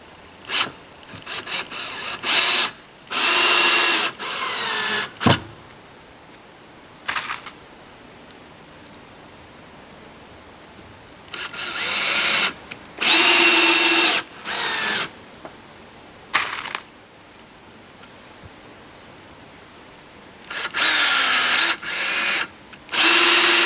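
Power drill driving screws into tiny house flooring, with repeated short whirring bursts separated by pauses and small metallic clinks, close and fairly loud, no talking.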